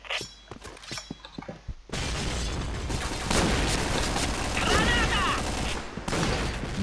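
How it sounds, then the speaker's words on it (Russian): Grenade blast in the online shooter Point Blank: quiet gameplay with scattered sharp taps, then a sudden loud burst that settles into a sustained roar of debris and gunfire, with a voice talking over it. "Граната!"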